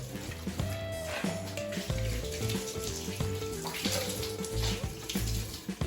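Water runs steadily from a hose or bucket to wet a ceramic countertop base, giving a continuous close splashing stream with clattering and tonal hums mixed in.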